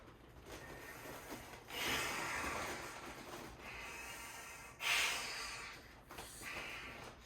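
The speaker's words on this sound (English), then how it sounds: "Then what I want to do is I want to test my breathing." Breathing inside an inflatable PVC suit, with soft rubbing and hissing breaths at close range, including two louder inhale or exhale surges and quieter shuffling between them.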